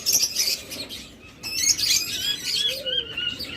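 Opaline budgerigars, including a clear-head opaline, chirp and tweet in a cage, busy overlapping high chatter in close bursts with brief pauses, fairly loud and with no talking.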